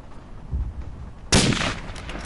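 A sharp, loud pistol shot from the World War I shooter Verdun bursts in partway through, following a stretch of low rumbling battlefield noise, and its bright echoing tail keeps ringing to the end.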